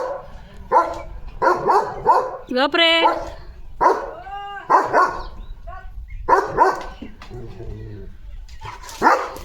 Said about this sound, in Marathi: सकाळी सकाळी ड्युटीला लागलाय लिओ त्याच्या भुंकत भुंकत